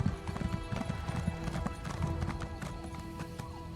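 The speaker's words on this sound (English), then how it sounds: "I was running on top of my horse." Horse hooves from the Elder Scrolls Online video game, a steady, brisk clip-clop of a mount moving under a bed of game music, with a brief neigh in the mix.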